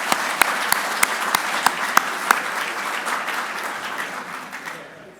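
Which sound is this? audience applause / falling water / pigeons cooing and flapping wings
audience applause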